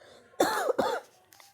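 A person with a sore throat coughs twice in quick succession, harsh, voiced bursts close to the microphone, followed by quiet.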